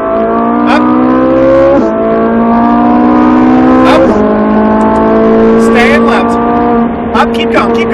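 A Ferrari 458 on a race track accelerates hard, its engine note climbing steadily through the gears with brief dips at each upshift, loud and close from inside the car, with a coach's voice talking over it.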